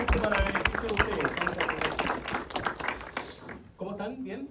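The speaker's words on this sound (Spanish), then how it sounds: "Así que un aplauso" Audience clapping at a talk, a dense burst of hand claps filling the room with crowd murmur and voices mixed in, tapering off near the end.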